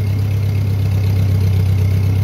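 A Ford 8N tractor engine idles steadily and loudly close by, a constant low rumble with a hint of knock and no pauses.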